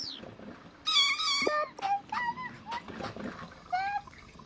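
A cat meows several times in short, rising and falling calls, fairly close and clear over quiet background noise.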